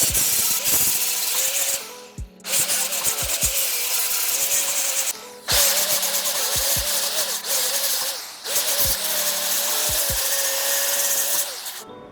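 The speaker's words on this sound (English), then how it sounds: "let's sand a bit away" Hand sanding of a car body panel on a classic Mini, with long steady abrasive rubbing strokes broken by short pauses and light taps, close and loud.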